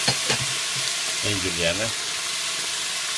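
Onion and sliced tomato fry in a pan with a steady, close sizzle, while someone speaks over it.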